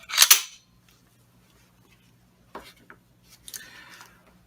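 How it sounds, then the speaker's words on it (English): The slide of a semi-automatic pistol is racked back, giving a sharp metallic snap, then quieter clicks and a scraping metal slide action a couple of seconds later, close and otherwise quiet. "You can do that by pulling back the slide."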